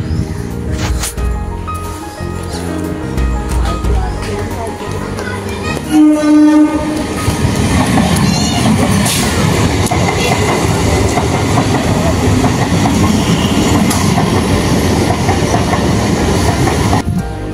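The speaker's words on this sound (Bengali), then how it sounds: "চলো একটু ট্রেন আসছে দেখাই।" A train passes close along a railway line, sounding its horn briefly before the loud, continuous rumble and clatter of the wagons rolls by for a long stretch.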